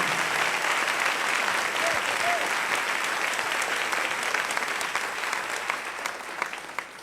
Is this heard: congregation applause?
yes